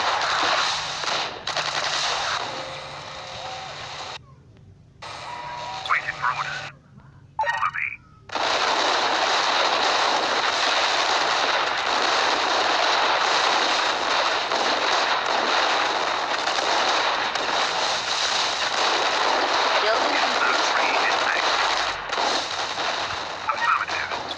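Dense machine-gun fire and explosions rattle almost without pause during an attack in the strategy game Art of War 3, with brief drops to silence and game voice lines over the din.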